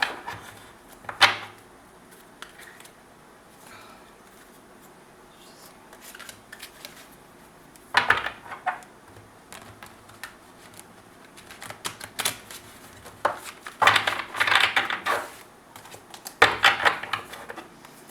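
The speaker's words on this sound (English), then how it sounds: "this deck is very difficult to shuffle. It's too big for my hands." Intermittent shuffling of an oversized tarot deck, bursts of riffling and card slaps separated by quiet pauses, close up and alone without talk.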